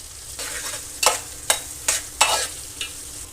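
Green chillies frying in hot oil, a close sizzle broken by four or five sharp scraping strokes of a spatula stirring the pan.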